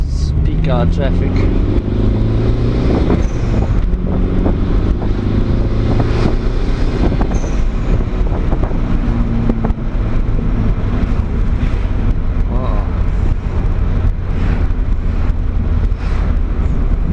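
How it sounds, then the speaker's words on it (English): A Honda CRX drives through peak hour traffic, its engine droning steadily alongside road and wind noise, with someone talking over it. "It's peak hour traffic."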